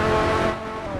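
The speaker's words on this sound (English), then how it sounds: "we'll be seeing the V10 sound" A V10 car engine in a racing video game, a brief loud rumbling drone that eases slightly after half a second, with no voice over it.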